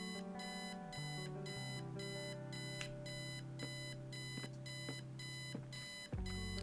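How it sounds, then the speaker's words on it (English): A video game alarm clock beeps in steady repeating bursts over a sustained electronic tone, close and clear with no talking, then cuts off near the end. "I set the alarm so you won't miss the funeral"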